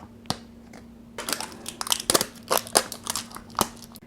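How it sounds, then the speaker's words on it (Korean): Plastic wrap is torn off a Bath & Body Works body lotion bottle by hand: one crisp crackle, a pause, then a rapid run of crinkling, snapping rustles up close in a quiet room. "바디크림과는 달리 이렇게 비닐로 포장이 되어 있어요. 한번 뜯어볼게요."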